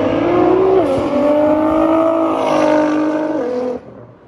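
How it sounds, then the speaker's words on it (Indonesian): A 2023 Nissan GT-R Nismo Special Edition accelerates hard, its engine note climbing and stepping up through gear changes with a loud, sustained roar before dropping away sharply near the end. "kita lihat nih kalau GT-R Nismo berakselerasi seperti ini suaranya"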